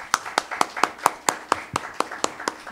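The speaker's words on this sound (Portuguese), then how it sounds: "Peço agora aplausos de boas-vindas à nossa conferencista." An audience claps in welcome for a lecturer at a literary talk, a sparse, even run of about a dozen distinct claps close to the microphone.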